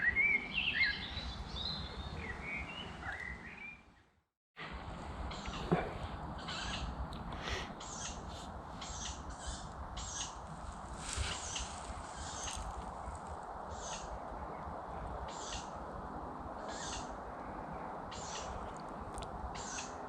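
Several birds call back and forth in a garden, repeated short chirps and caws spaced fairly regularly over steady outdoor background noise, with a brief silent gap early on.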